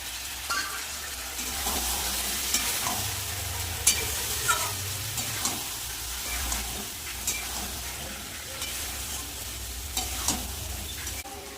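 Potatoes for aloo dum fry in a pan with a steady sizzle and hiss, broken by soft, regularly spaced scraping stir strokes.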